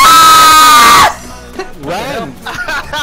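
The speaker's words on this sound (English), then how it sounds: "Why'd you scream?" A person screams loudly during an H1Z1 video game match, one sustained piercing shriek lasting about a second, followed by excited talking from other players.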